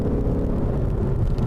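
A 2015 Ford Mustang GT takes a hill jump, its engine a loud, steady low rumble that runs unbroken and close throughout.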